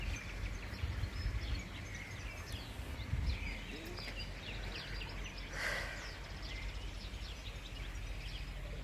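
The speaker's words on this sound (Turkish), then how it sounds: "Kuşların sesini duyuyorsunuz herhalde." Birds chirp and tweet outdoors, scattered calls over a steady low rumble of background noise, fairly distant.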